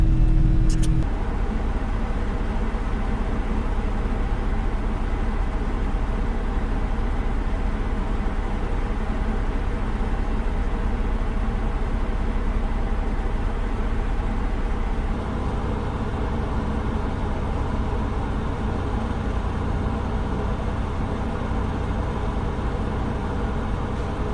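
A vehicle drives steadily along a wooded homestead trail with fallen trees, its engine rumble constant and close throughout, with a slight drop in level partway through and no talking.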